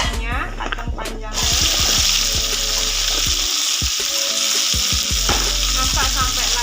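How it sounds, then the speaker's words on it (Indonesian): Long beans stir-fried in a pan for simple fried noodles, a loud steady sizzle with repeated scraping and clanking stirs of the utensil against the pan, alone with no talking. "lalu masukkan kacang panjangnya,"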